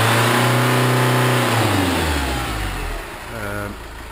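A car engine revs up under acceleration then drops back, its rising and falling harmonic tone loud and close, with a brief second rev near the end and no talk over it.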